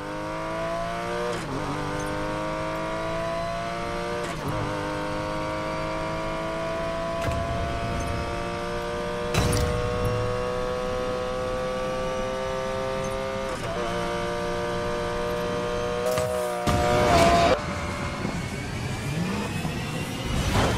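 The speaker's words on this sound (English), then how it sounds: "I'm going to be driving the 750 horsepower Porsche 911 GT3 RS. So I'm gonna do a quick top speed run" A 750-horsepower Porsche 911 GT3 RS engine in Need for Speed Payback howls through a top speed run, its revs climbing steadily and breaking at several sharp gear shifts, loud and continuous, with no talking.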